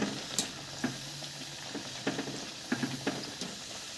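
Sabudana vada fry in hot oil over a high flame, a steady close sizzle with occasional sharp pops and clicks scattered through it.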